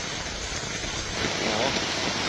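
Heavy rain pours down steadily in a flooded yard, a dense, close hiss of falling water and rushing runoff.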